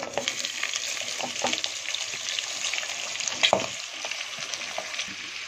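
Onions and whole green chillies sautéing in hot oil for vada curry, a bright steady sizzle with intermittent stirring clinks and scrapes, close-up and alone without speech.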